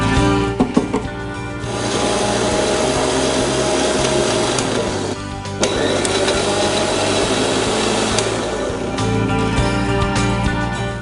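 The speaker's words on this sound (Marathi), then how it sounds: "आता आपण हे सगळं ग्राइंड करणार आहोत एक फायनल टच म्हणून" A mixer grinder blends green pea soup in a steady, loud whir lasting nearly the whole stretch, with a short pause in the middle before the motor starts up again.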